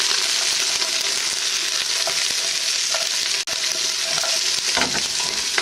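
Lamb shanks searing in a hot pan, a constant loud sizzle and crackle of frying meat with occasional scrapes and stirring sounds, no talk.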